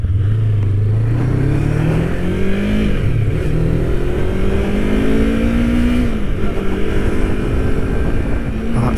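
A Yamaha MT-25 motorcycle engine revs steadily and loudly up close, its pitch rising and falling in long sweeps as the throttle climbs toward high rpm during a test ride, with no talking.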